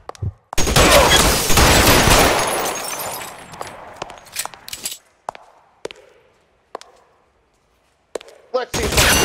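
Gunfire in the video game L.A. Noire: a dense burst of rapid shots for several seconds, then scattered single sharp shots with pauses between them, loud and close.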